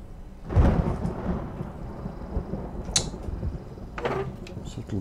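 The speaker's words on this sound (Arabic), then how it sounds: "صوت البرق." Thunder in the horror video game Madison opens with a heavy low rumble that rolls and fades, followed by sharper crackling bursts and creaks, with faint rain-like noise underneath.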